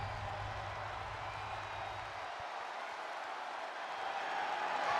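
A London arena crowd in the WWE 2K24 wrestling game cheering and applauding before an Intercontinental Championship match at Money in the Bank, a broad steady roar that swells slightly toward the end.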